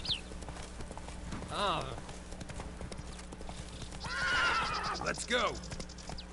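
Roach, the horse from The Witcher 3, trots with rhythmic hoof clip-clops and lets out a couple of whinnies, while someone speaks briefly over the game sounds.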